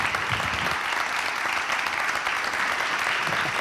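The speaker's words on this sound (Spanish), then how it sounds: "Un aplauso a Andrés Llena" A live studio audience claps steadily and loudly through the whole stretch, a dense even wash of applause with no pauses.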